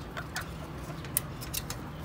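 A hen gives a few short, soft clucks over a low steady background hum, close and fairly quiet.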